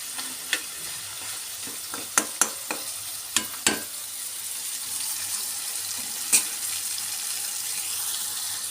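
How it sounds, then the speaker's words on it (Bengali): A pan of fish sautés with turmeric, chili and salt, a soft continuous sizzle broken by a few sharp clicks of a spatula against the pan. "মাছটা আমি একদম বেশিক্ষণ কষাবো আর নাড়াচাড়া করবো না"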